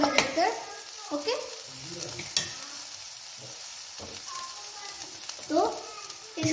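Matar chaat vegetables sizzle in a hot pan with occasional scraping stirs, a steady fry hiss under a voice talking over the cooking.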